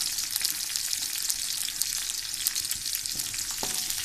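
Onions and garlic sizzle and crackle steadily in a hot pan, with occasional stirring scrapes, close and continuous, no speech.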